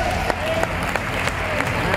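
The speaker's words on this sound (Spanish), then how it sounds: "Grandes aplausos para ella." Short burst of audience applause for a goalkeeper at a women's football league draft event, dense clapping with occasional sharper claps, loud and close, with a voice running over it.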